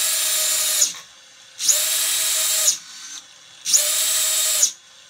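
Racing drone motors on a 5S Li-po pack scream at full throttle in three bursts of about a second each, a high whine rising sharply and cutting off with short pauses between.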